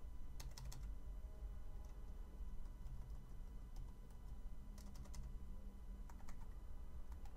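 Steady clicking keystrokes on a Porodo wireless keyboard, close and fairly quiet, coming in quick irregular bursts with no speech.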